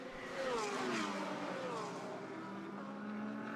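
Purple Lamborghini GT race cars at Suzuka during the 2018 10-hour endurance race, engines roaring loud and steady with rising and falling pitch as they pass close together.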